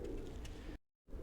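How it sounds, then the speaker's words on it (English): Pigeons near a monument give soft, low cooing under steady outdoor background noise, cut by a short gap of silence before the ambience resumes. "Well, with all these pigeons chilling here,"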